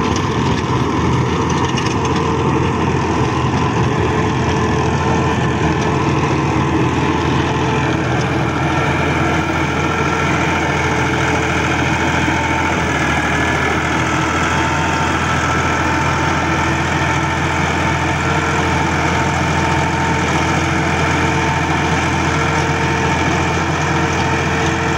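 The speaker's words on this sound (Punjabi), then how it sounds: "MF 260 ਜੀ ਸਪੈਸ਼ਲ ਐਡੀਸ਼ਨ 2024 ਦਾ ਮਾਡਲ" A 2024 Massey Ferguson MF 260 Special Edition tractor fitted with a 48-blade rotavator runs steadily and loudly, its deep diesel drone holding an even, unbroken tone throughout with no voices.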